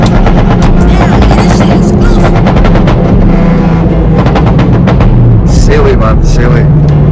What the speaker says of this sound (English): that's just overrun, that's just pure pops, pure bangs and overrun